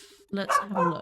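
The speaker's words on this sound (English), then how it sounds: "Sorry if you can hear the barking" Two pet dogs bark indoors in a quick, loud burst of several yaps close to the microphone, while someone talks over them during a gameplay session.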